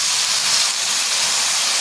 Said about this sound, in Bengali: এবার মশলাটা কষার জন্য হালকা করে একটু জল দিলাম